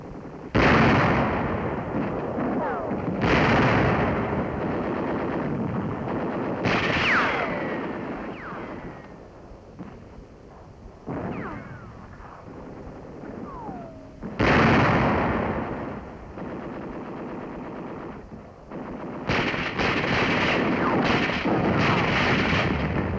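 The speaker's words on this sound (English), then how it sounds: ".105mm howitzers mounted on M7 tank chassis spearhead the attack." 105mm howitzers mounted on M7 tank chassis fire during a 1945 WWII attack. Several loud, heavy booms ring out at irregular intervals, each trailing into a rumbling decay.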